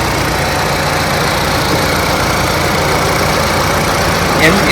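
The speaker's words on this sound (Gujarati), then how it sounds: "એન્જિન પણ એક એકદમ સાયલન્ટ છે તમે જોઈ શકો અવાજ પણ સાંભળી શકો છો તમે." The 2000cc four-cylinder petrol engine of a Mahindra Thar Roxx 5-door 4x4 idles in a steady, smooth, fairly quiet hum with a faint low rumble, unchanging throughout.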